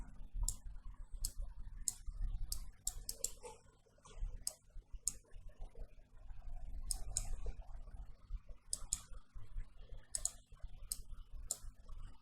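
Keyboard typing while working in Photoshop, bursts of crisp close key clicks in quick uneven clusters, separated by short pauses over a low steady hum.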